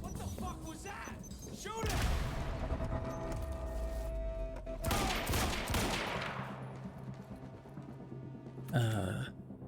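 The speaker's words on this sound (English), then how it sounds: "shoot bullets into it that all collide at the exact same time" Gunfire from the time-manipulation action video game Quantum Break, heard as dense bursts of loud shots and impacts in two main waves over a steady musical backdrop, ending with a sharp final blast.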